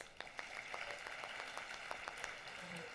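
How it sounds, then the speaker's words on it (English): Audience applause after a poetry performance by Joshua Muyiwa, quiet and fairly distant, with individual claps standing out in a loose rhythm over a few seconds. "Shall we give him applause?"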